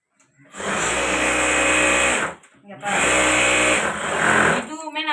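An electric sewing machine stitches bags at home in two long, loud, close whirring runs with a brief stop between them.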